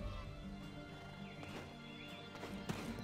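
Horse hooves clip-clop in Black Desert Online, with a glitching wild horse whinnying over a steady game soundscape, hoofbeats moderately close and continuous for a few seconds.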